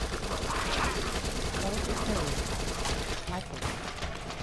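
Continuous SMG gunfire in the zombie shooter Dead Nation, dense rattling shots blending with game noise while someone talks over it.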